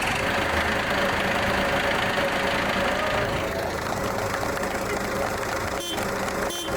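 A new MTZ tractor engine idles steadily nearby with a low rumbling drone and faint knocking, running continuously throughout.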